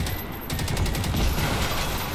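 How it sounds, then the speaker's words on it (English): Explosion and crackling blasts from the Landfall video game during a base defense fight, a dense rumbling burst sustained across the moment with sharp broadband bursts. "Oh, man, that explosion is so good."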